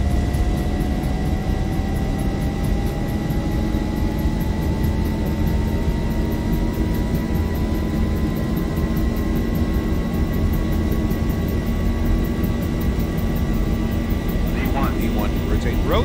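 Simulated airliner jet engines at takeoff power in X-Plane 11, a steady loud roar with a slowly rising whine that runs for the whole stretch, with cockpit voices talking over it.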